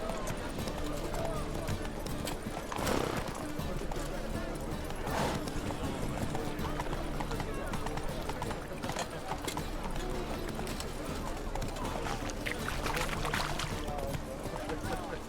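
Roach, Geralt's horse in The Witcher game, with hooves clip-clopping in a steady walking rhythm, mid-distance and continuous beneath people talking.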